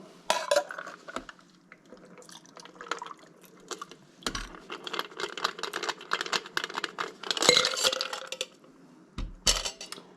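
A cocktail being strained from a shaker into a glass, with clattering ice, metal clinks and liquid pouring, a busy run of close taps and rattles with a sharp clink near the end.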